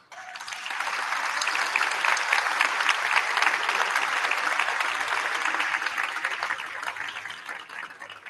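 An audience at a ceremony recognizing book fair workers and partners breaks into sustained applause, dense and steady clapping filling the room for several seconds before tapering off.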